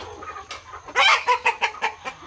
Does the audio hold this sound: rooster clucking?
yes